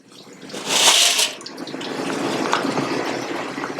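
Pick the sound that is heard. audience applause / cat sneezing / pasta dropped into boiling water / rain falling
pasta dropped into boiling water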